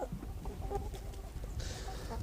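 Free-range chickens clucking in a yard, several soft intermittent clucks close by over steady outdoor background noise.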